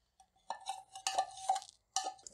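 A spoon stirring thick carrot rice pudding (gajar kheer) with condensed milk in a pot, soft scraping and sloshing strokes in a few short bursts.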